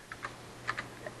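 A few quick keystrokes on a computer keyboard, soft and close, tapped out in an irregular burst over a steady low hum.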